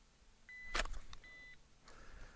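Electronic shot timer beeps during a dry-fire pistol drill: two steady, clear tones of about a second each, separated by a sharp click-like burst, followed by quieter handling noise.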